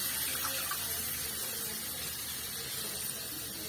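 About two cups of water pour steadily and noisily into a cooking pan for Bengali poppy seed bora posto. The gushing stream carries on without a break and is close and loud throughout.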